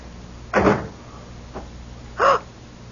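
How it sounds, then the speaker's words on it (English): A door is closed indoors in a quiet room, giving two separate medium-loud thuds about a second and a half apart with a faint knock between them. No one speaks. "Come in, close the door."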